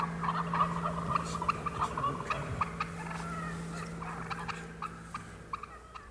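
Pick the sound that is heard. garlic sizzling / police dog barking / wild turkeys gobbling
wild turkeys gobbling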